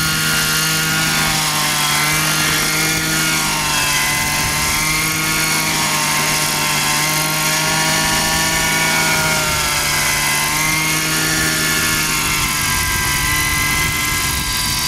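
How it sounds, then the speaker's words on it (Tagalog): A helicopter's steady rotor drone and engine whine, loud and continuous throughout, with no voices. "si Chris Chua flying his helicopter."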